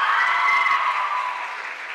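Audience applause in an auditorium at a regional oratory competition final in Herrera, a dense steady wash of clapping held for about two seconds and easing slightly toward the end.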